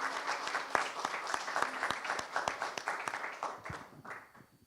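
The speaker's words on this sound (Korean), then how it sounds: "환영의 박수 한번 칩시다." A church congregation claps in welcome during a Sunday morning service, a dense, steady burst of many hands filling the room and tapering off toward the end.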